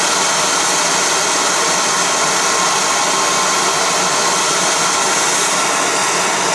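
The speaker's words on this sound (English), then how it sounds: "put the heat right on the edge of that, right on the end of that bolt or screw" A gas torch flame heats the end of a bolt on a Jeep Wrangler during a rebuild, giving a steady, loud broadband roar that holds unbroken throughout with no talking.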